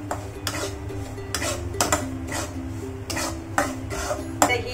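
Semolina being dry-roasted and stirred in a pan for mango sheera, a spoon scraping the metal in repeated strokes about every half second, close and steady over a low background hum, with no talking.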